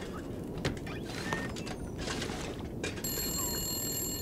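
An old-fashioned telephone bell in The Long Dark starts ringing near the end, a bright metallic trill over a steady rumbling wind-like backdrop.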